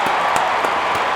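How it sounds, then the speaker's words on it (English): A short burst of dense crowd applause, steady and fairly loud throughout with no pauses, likely a stock clapping sound effect with no voices over it. "Round of applause. Round of applause."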